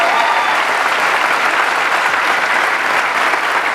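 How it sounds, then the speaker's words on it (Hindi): Enthusiastic audience applause, dense and continuous, many hands clapping together at a steady loud level throughout. "इनके लिए एक जोरदार तालियां इन सबके लिए,"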